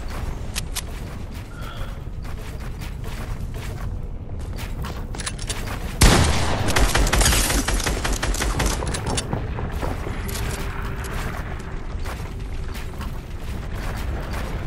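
Loud, nearly continuous gunfire in a shooting video game on a lava map: dense rapid bursts throughout, swelling into a heavier barrage midway, with no talk.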